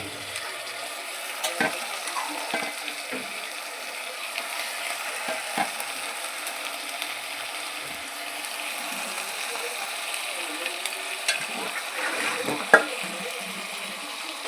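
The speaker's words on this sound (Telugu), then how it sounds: "అల్లం వెల్లుల్లి పేస్ట్ వేయించుకొని తర్వాత కడిగినటువంటి చికెన్ వేసుకోవాలి" Country chicken with ginger garlic paste frying in a pan, a steady low sizzle running throughout with occasional faint clicks and scrapes of a utensil, no talking.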